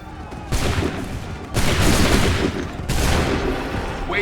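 Musket volleys in Assassin's Creed 3, three heavy, booming group discharges a second or so apart, each a dense crackling blast that rolls on before the next.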